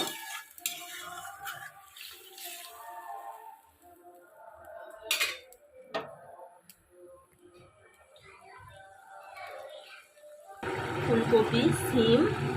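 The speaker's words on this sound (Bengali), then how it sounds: "আমি এটাও ঢেলে দেবো দিয়ে ভালো করে মিক্স করে নেবো" Prawn and cauliflower curry stirred in a pan, with intermittent scraping and clinks of a spoon against metal and a louder sizzle near the end, while someone talks throughout.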